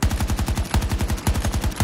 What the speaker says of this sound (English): Burst firing.